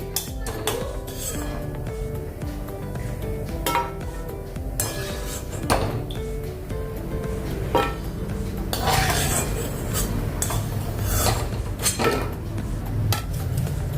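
Roasted coconut is scooped out of a pan, with repeated metallic clinks and scrapes of a utensil against cookware ringing out close over a steady kitchen background.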